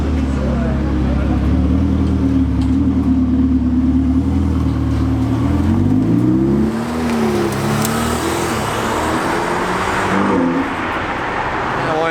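A Ferrari 488 Pista engine revs loudly and close, rising and falling in pitch as the car pulls away through a crowded spot in Monaco, with a person talking over it.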